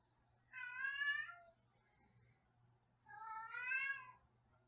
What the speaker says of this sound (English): hungry cat in the background